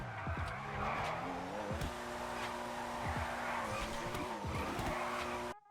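The Comet Retro sports car from GTA Online drifts with repeated tire squeals and skids over a revving engine whose pitch rises and falls, several slides in a row, loud and close.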